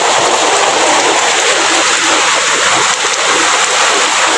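Steady heavy rain pours down, a dense continuous hiss of drops splashing on surfaces, loud and close with no pauses.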